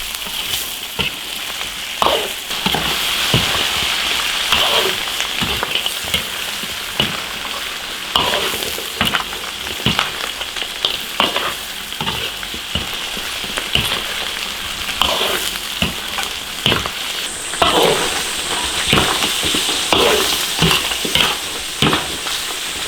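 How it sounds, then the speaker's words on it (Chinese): Beef feet stir-frying in a wok, a continuous loud sizzle punctuated by frequent spatula scrapes and clanks against the metal in an irregular rhythm, with no speech. "炒2分钟， 把牛角煸入味。"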